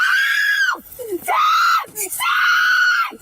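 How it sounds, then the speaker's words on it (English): A woman screams during a police encounter, giving three long, loud, piercing screams in a row with brief breaks between them. "All that screaming changed nothing."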